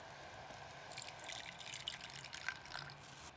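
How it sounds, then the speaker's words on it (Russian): Water is poured into a boiling mushroom mycelium culture medium, a light trickling and dripping that runs steadily at low level, with small splashes and no talking. "Прошло где-то 15 минут, добавляем где-то 100 миллилитров воды."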